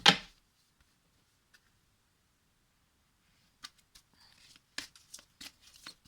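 An oracle card deck is shuffled by hand: a brief loud riffle opens, then silence, followed by scattered soft card slaps and flicks in the last couple of seconds, close and fairly quiet.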